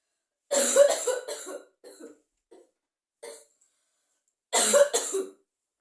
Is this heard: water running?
no